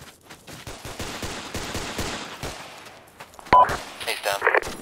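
Rapid bursts of gunfire crack in a dense, close volley, then thin out into sparse shots, with brief radio-like voice chatter breaking in near the end.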